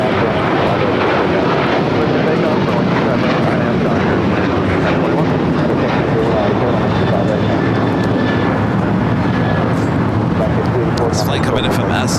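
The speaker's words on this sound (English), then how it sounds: "Tower, got that ABX 767 next up for arrival" An ABX Boeing 767 arriving on runway 25 left at LAX after a flight from SFO, heard as a loud, steady broadband jet roar that holds for about twelve seconds, with talking over it.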